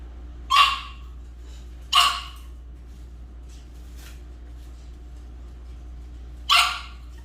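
Three sharp barks from an exotic bully dog, spaced irregularly with long pauses between them, standing out clearly over a quiet background hum.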